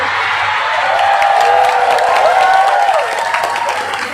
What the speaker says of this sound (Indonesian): Ini tepuk tangannya kok nggak enak ya.